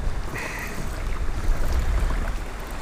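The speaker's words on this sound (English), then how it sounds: "we ain't gonna let this wind stop us" Steady wind rushing over open water from a pedal-drive kayak while bass fishing in fall, a broad low roar with faint lapping, constant and fairly close throughout.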